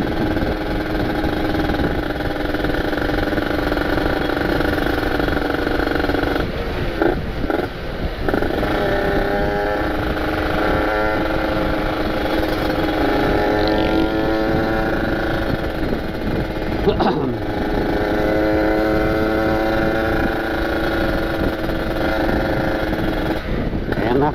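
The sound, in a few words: Kawasaki Ninja RR motorcycle engine running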